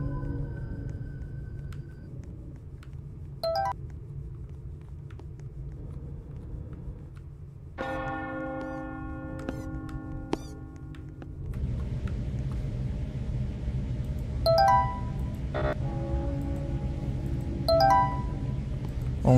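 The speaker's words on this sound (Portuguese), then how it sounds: "tá tocando esse sino aí, tá me arrepiando, galera" Eerie bell chimes in the Rainbow Friends horror video game, ringing in short repeated tones over a low rumbling ambient drone, with a sustained tonal note in the middle and no talking.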